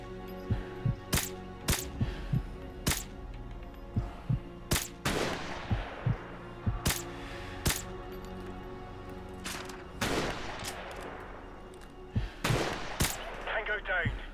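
Gunfire in the Modern Warfare Remastered campaign on PlayStation 4, loud sharp shots and short bursts spaced irregularly, with booming echoes and a low rumble between them.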